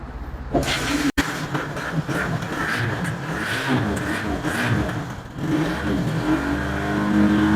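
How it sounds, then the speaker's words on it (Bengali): An LPG-fitted motorbike engine starts on gas and revs steadily, a loud, continuous, close-up mechanical roar with a brief dropout near the start and a fresh surge toward the end. "গাড়িটা আমরা এখন গ্যাস দিয়ে স্টার্ট করব"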